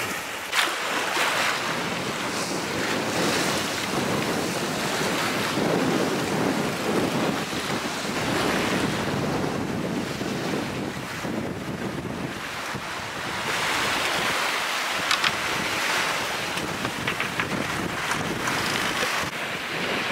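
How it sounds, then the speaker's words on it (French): Strong wind of around 30 knots roars over a sailboat running downwind at sea between Brazil and Uruguay, with waves surging and crashing in a continuous loud, gusty wash and no voices. "On a les 30 nœuds de vent environ au portant."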